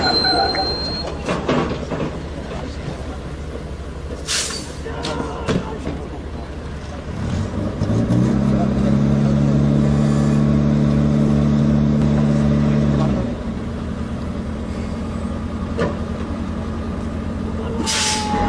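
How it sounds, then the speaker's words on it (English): A Scania tow truck hauling a Bofors gun: loud heavy engine rumble with steady low tonal drone building in the middle, accompanied by an air-brake hiss and clanks, close and prominent. "You will now see the Bofors gun towed by a tow truck called the Scania."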